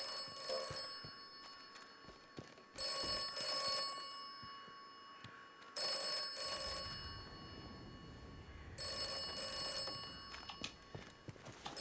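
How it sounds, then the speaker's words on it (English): Telephone bell ringing in the video game Atomfall, repeated bursts of bright metallic ringing with short pauses between them, fairly loud over a low ambient game background. "I'd answer the phone if I was able to find it."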